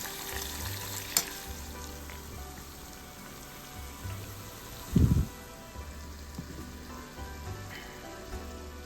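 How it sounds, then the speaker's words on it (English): Sliced shallots and grated coconut sautéing in a pan for a Kerala plantain erissery, a steady soft sizzle with light stirring and one sharp clatter midway. "100 grams of shallot sliced, 100 grams of coconut. Saute until it is golden in color."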